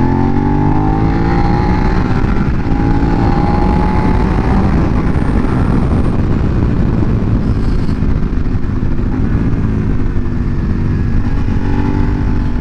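A 2019 Suzuki SV650X motorcycle engine drones loud and steady while riding, its pitch climbing and falling through gear changes, with wind noise throughout.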